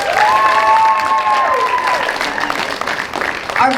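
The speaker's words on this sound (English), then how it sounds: "Please give a round of applause to our new inductees." Applause at a middle school honor society induction ceremony, with a sustained tonal hum running through the first half, clapping continuing steadily throughout at a moderate distance.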